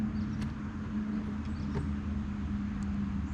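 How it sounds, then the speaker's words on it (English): A car speeds along a nearby road, heard as a steady, fairly faint low engine drone with constant road rumble. No one talks. "Somebody's racing down the road apparently."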